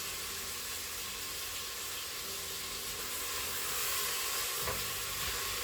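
Garlic and ginger frying in a Crockpot Express on sauté mode, giving a steady, even sizzle with a soft hiss that holds throughout, with a brief stir-like rustle near the end.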